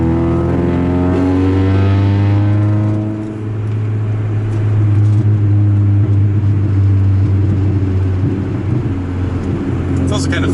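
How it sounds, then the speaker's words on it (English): Car engine revving hard toward redline through first and second gear, a loud, close, sustained drone with rising harmonics that dips briefly and climbs again, heard from inside the car. "I'm able to basically take it almost red line in first and second gear and still be within the speed limit"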